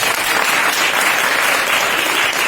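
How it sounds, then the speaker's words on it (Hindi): Schoolchildren applaud together in a hall at Veer Chhatrapati Shivaji School, a loud, dense, continuous burst of clapping filling the room. "एक बार तालियां बजाइए सी के लिए।"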